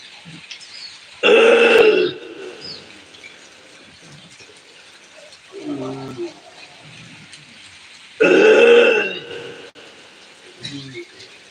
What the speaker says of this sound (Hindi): उदरस्थ वायु डकार के रूप में बाहर आएगी